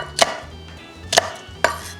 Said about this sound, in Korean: 피망도 당연히 감자 크기로 깍둑 썰어 준비해주세요.